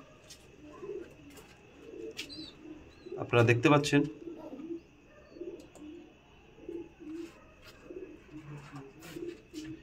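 Pigeons in a rooftop loft coo in soft low bursts, with one louder burst near the middle, while someone talks throughout.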